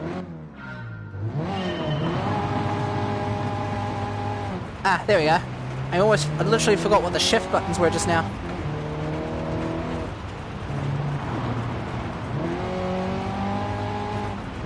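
A rally car engine in Gran Turismo Sport on a dirt track, chugging and revving through gear changes with rising and falling pitch, under a player's talking.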